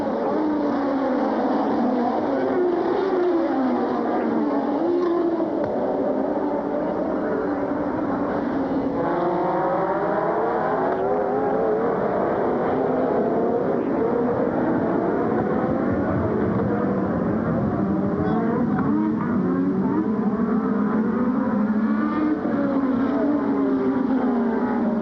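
Formula 1 cars roar away from the start of the 1986 Spanish Grand Prix, a dense, continuous wall of high-revving engines rising and falling in pitch as they accelerate, loud and sustained throughout with no talk.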